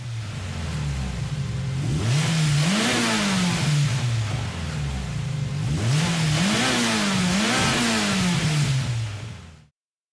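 A Mitsubishi Lancer Evolution X Final Edition with a 2-liter turbocharged petrol engine and four-wheel drive revs in Gran Turismo 7, its engine note climbing and falling in two loud, sustained waves before cutting off.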